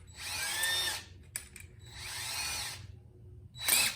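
A power drill whirs in two steady bursts and a short third spin while a bit is tightened in its chuck during a Kia Sportage lift kit job. The motor whine is close and loud, with brief clicks between the bursts.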